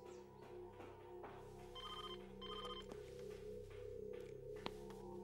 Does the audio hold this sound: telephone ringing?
yes